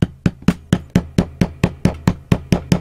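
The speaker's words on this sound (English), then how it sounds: "So I'm just gonna hammer it down lightly" A hammer taps an aluminum bar down onto the terminal of a LiFePO4 50Ah prismatic battery cell, about a dozen light, evenly spaced metallic knocks in a steady rhythm, close up with no speech.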